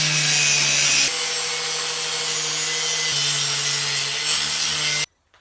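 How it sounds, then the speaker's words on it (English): Cutoff wheel grinding through the seat bolts in a school bus being converted: a loud, steady, harsh abrasive whine for about five seconds, then an abrupt stop into silence. "I ground and I cut all the bolts off"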